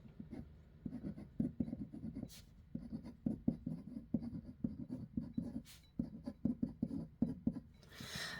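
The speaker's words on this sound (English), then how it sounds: "now I'm going to bring about a piece of paper, and I'm going to write out my intention" A pen scratches out words on a sheet of paper in short, quiet strokes and a steady rhythm, close up, with occasional faint taps and rustles.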